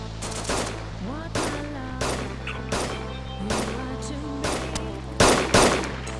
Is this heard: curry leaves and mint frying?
no